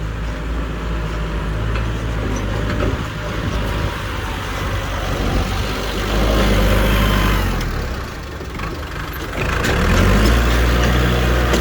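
A tractor engine runs steadily and loudly close by, with a deep rumble that swells twice as the machine works through a field.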